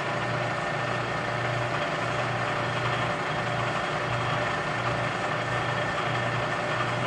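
A vertical milling machine taking a facing cut on metal, giving off a steady, unbroken mechanical hum with a faint low pulsing rhythm, heard close and alone throughout.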